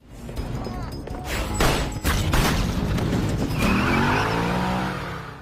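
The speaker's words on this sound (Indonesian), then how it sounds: "Paul yang melihat itu, ia langsung masuk ke dalam mobil yang ada Angela di dalamnya untuk mengejar." A car speeds away in a film chase, its engine roaring loud and close, with sharp tire squeals, a heavy boom and a rising engine whine toward the end.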